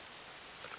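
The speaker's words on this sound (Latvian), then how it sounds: "Lietus mitējas?" Soft, steady hiss of rain falling, faint and continuous with no voices.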